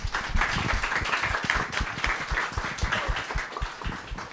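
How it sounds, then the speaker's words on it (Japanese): A seminar audience applauds at a Japanese science fiction award selection event, a steady wash of many hands clapping throughout at moderate loudness, with no voices over it. "拍手でお送りください"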